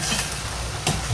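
Carrot and chicken mixture stirred in a frying pan, a steady broadband sizzle with scraping utensil strokes, one louder stir burst near the end.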